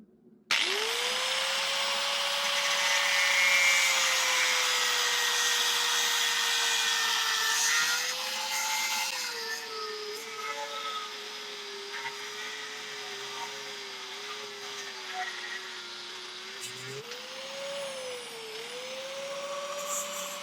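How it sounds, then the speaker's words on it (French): Damascus steel billet, still hot and clamped in a vise, being cut with a power tool for a sandwich damascus build: a loud, steady whining grind that runs continuously for about twenty seconds, shifting pitch slightly as the cut progresses, with no talk. "c'est dans l'étau là, j'attends même pas que ça refroidisse, je coupe direct"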